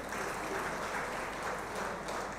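Steady applause from a lecture audience at a Telugu religious discourse on the Bhagavatam, a dense wash of clapping that holds evenly for a couple of seconds with no talk over it.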